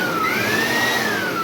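A Makute 2-in-1 blower/vacuum runs in vacuum mode with its dust bag fitted, giving a loud, close, steady motor roar with a high whine that slowly rises and falls, with no voices.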